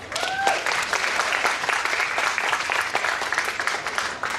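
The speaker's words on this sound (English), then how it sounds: "Give him a big round of applause" Audience applause greets a DMC champion from the United States at a video-mixing seminar; dense clapping holds steady and loud throughout, with a brief rising whistle near the start.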